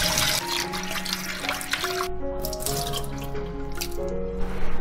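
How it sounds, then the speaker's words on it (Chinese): Chunks of meat washed by hand under a running tap in a sink to rinse out the blood: a close, continuous splashing stream with dripping and a change in flow partway through, and no talking. "用清水抓洗掉血水。"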